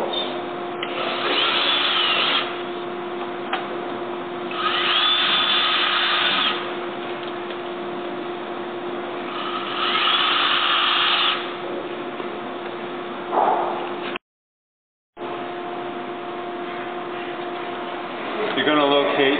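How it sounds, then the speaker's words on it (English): A drill fitted with the supplied bit bores three holes in separate bursts against a steady background tone, each burst loud and a few seconds long, with a short gap of silence later on. "you're going to get the supply drill bit, and you're going to drill 3 holes"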